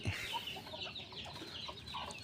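Chickens and young fowl cluck in short, soft bursts, close by in a farmyard in the early morning, with a continuous low chatter and no talking.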